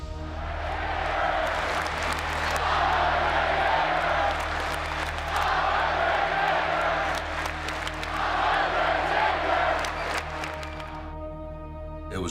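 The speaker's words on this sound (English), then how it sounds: "It was really nice to get that kind of reception from the Garden crowd" Large Madison Square Garden wrestling crowd cheering and applauding for the Undertaker, a loud sustained roar with whoops and scattered claps swelling and easing before cutting off near the end.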